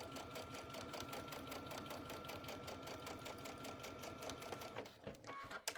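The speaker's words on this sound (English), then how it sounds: "I just want to make sure I get me a nice top stitch there." A sewing machine runs at a slow, even pace laying a top stitch on a round zipper pouch, its rapid needle clatter steady and close before stopping with a few handling clicks at the end.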